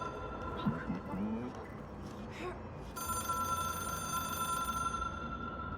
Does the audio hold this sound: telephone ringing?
yes